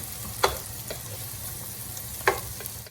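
Sliced onions sizzling in a pan for tuna pasta, with a steady quiet hiss of frying broken by two sharp scrapes of a spoon stirring against the pan.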